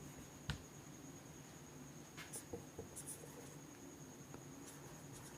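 A definition being written on a board in a chemistry lesson, with faint, sparse scratchy strokes and occasional taps over a quiet room hum and a steady high whine.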